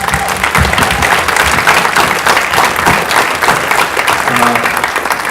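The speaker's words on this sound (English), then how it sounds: "I'd love to applaud him" A theater audience applauds pianist Adam Osinski with steady, dense clapping that fills the room for several seconds without letup.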